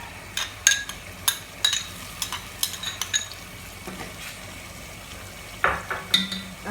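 Spoon scraping and clinking in a pan as tomato paste is stirred into frying onions and spices for an Egyptian stuffed eggplant filling, a series of sharp irregular taps over a low sizzle.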